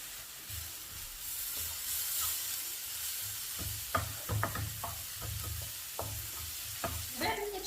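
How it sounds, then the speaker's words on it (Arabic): Onion and pepper sautéing in a pan while a cook prepares fish pastilla, with a steady sizzle under repeated stirring scrapes and clinks of a utensil, close and moderately loud, no voices. "بعد ملي تشحرتي البصله والفلفله"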